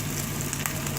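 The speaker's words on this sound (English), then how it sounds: "your garlic's sort of roasting in there with it" Garlic and bacon sizzle in a pan for carbonara with a dense, close, continuous crackle, brief and steady with no voices.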